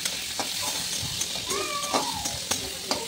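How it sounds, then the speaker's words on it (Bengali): Carrot pieces fry in hot oil with salt, giving a steady bright sizzle and hiss broken by faint scrapes of stirring, close and continuous. "গাজরটা এদিকে ভাজা করতে করতে একটু লবণ দিলাম"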